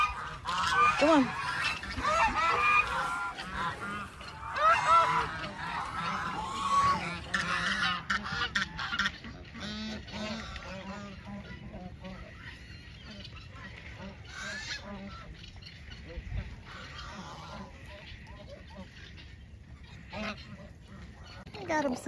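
A flock of farm geese honks in a busy overlapping chorus at feeding time, loud at first and then thinning to scattered calls with some quacking and handling noise, while a voice speaks faintly.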